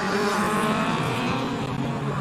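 Ford Laser and Mazda 1500cc race cars rev hard and pull away together at a race start, a loud, dense roar of engines close by with no break.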